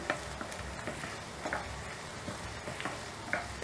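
Chopped medium onions and green chillies fry in a pan with a soft continuous sizzle, punctuated by scattered light clicks and scrapes of a spoon stirring, fairly quiet and without talk.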